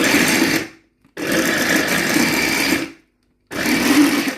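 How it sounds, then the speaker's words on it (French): A low-powered electric kitchen blender grinds frozen fish with curry leaves, its loud steady motor whir running in three bursts separated by short silent pauses. "Alors il n'est pas puissant ce mixeur, donc j'espère que ça va pouvoir prendre le tout."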